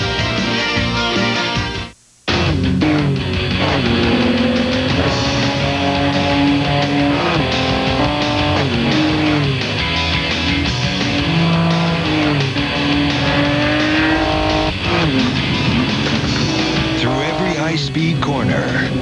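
Indy Lights open-wheel race cars on Dayton tires at the Mid-Ohio road course in 2000, engines screaming loud and continuous with shifting pitch as cars pass, broken by a brief gap near the start, under steady commentary.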